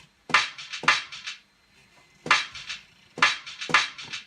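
A crisp snare drum sample from a Maschine MK1 hits four times in a loose pattern, each strike bright and snappy with a short rattling tail, played alone and close.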